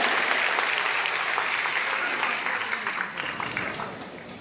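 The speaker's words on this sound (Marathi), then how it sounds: "जोरदार टाळ्या वाजवायला आपल्याला वाजवायचे आहे" Audience at a political event distributing kitchen sets to construction workers clapping loudly in a sustained burst of applause that gradually thins and fades toward the end.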